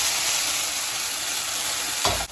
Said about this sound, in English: You're gonna wanna sear these up, just get them a little bit brown.